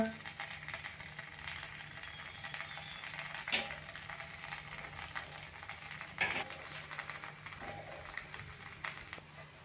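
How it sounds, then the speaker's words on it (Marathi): Ragi and sweet corn thalipeeth fries in oil on a pan with a faint, steady sizzle, broken by a couple of sharper scrapes and clinks nearby. "आता आपण ते उलटून घेऊया भाजल्यावर परत बाजूने थोडस तेल सोडूया"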